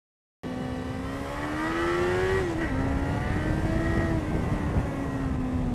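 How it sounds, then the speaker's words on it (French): Four-cylinder car engine climbing to high revs after a downshift on a winding mountain pass road, a loud, close, sustained rising whine that wavers slightly as the car pulls out of a bend. "je rétrograde pour être à environ 8000 tours à la sortie et avoir toute la puissance"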